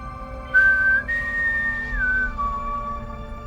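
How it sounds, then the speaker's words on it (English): A single person whistles a slow, wavering tune of sustained held notes, clear and close against a quiet background hum. "you can't help but to start whistling that melody you hear"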